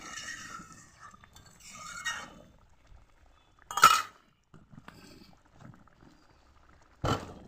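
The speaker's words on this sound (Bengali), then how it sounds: "ভালো করে একটু নেড়ে চেড়ে দিচ্ছি" A spoon stirs bottle gourd curry in a pan, giving two sharp clinks against the metal amid faint scraping and quiet stretches, close by with no talk.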